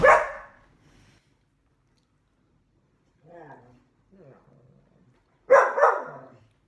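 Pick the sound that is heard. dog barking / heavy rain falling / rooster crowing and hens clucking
dog barking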